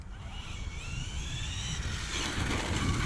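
An Arrma Infraction 6S V2 RC car's electric motor whines steadily at quarter throttle, its pitch sliding and rising as it runs, loud and close over a rough rumble of tires on the ground.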